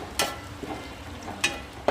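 A raw ball of dough fries in hot oil, giving a soft steady sizzle broken by a few sharp crackling pops spaced through the short stretch, heard close with no talking.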